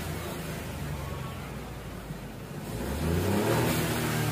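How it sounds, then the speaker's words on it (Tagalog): A Ford Fiesta engine with a transmission malfunction and a missing RPM reading rumbles at a steady idle close by, then revs up partway through and holds a louder, higher drone until the end. "Try nating RPM."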